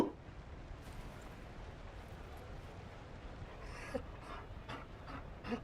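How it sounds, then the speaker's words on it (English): Mabari war dog from the video game Dragon Age: Inquisition panting in quick, soft breathy bursts, fairly faint and close, with the panting growing more distinct toward the end. "You found a dog? They don't breed Mabari in Olay."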